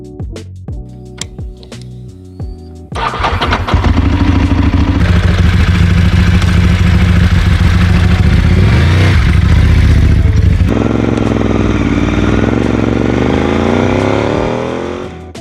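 Ducati 748 SPS motorcycle engine starting after clicks and cranking, then a loud, close, rough idle with blips of revving that rises and holds before easing off.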